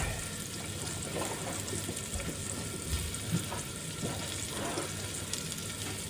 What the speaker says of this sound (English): Right, now for the mushrooms and the onions. Get them in the pan.